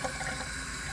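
Water pours in a steady, close rush while houseplants are watered, soaking through the potting soil and starting to drain out of the pot.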